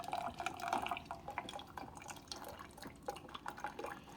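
A Keurig coffee maker running a full 12 ounces of descaling solution through its brew cycle, with a steady trickle of dripping liquid close by and no talk.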